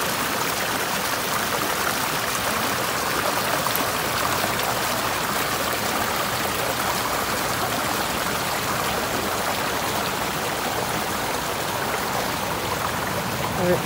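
A stream flows through a Pacific Northwest nature center garden, a steady loud rushing and trickling of water that fills the scene without pause.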